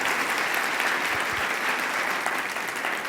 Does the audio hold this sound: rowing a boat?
no